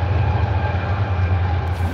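A train passes with a steady, heavy low rumble and rolling hum, loud and continuous throughout with no talk over it.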